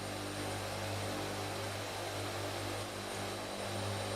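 In a flight simulator game, a Hercules transport plane's engines drone as it slows for approach, a steady, even hum with a low tonal buzz, moderately quiet and without talk.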